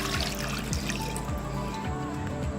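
Water pours steadily from a mug into a karahi pot holding tomato and garlic, a close, continuous trickling splash with no pauses.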